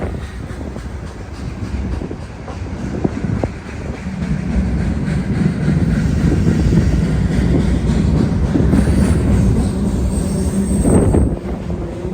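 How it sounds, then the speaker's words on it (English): A train crosses a bridge at close range, a heavy continuous roar with clattering wheels and a high metallic squeal building near the end. "amazing how many trains go over this bridge"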